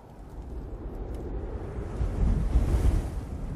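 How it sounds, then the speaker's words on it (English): Steady wind roars through the night, a broad rushing blow that builds louder toward the end, alone with no voices. "It started with the wind."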